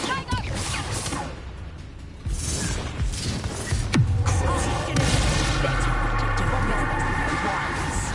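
Bombarda explosion spell cast in Hogwarts Legacy, a loud booming blast with whooshing debris and rumble over a dense, continuous game soundscape.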